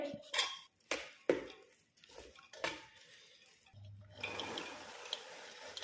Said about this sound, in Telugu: మొత్తం వేసేసి కలుపుతున్నాను ఇదంతా కూడా మంచిగా కలుపుకోవాలి